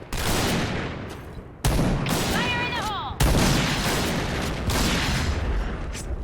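Rapid gunfire in a first-person shooter video game, loud, dense bursts of shots that run almost continuously with short gaps, along with other game effects and a voice talking over it.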